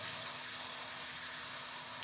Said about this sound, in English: we're going to spray our air filter with the degreaser just over the container so I don't make a mess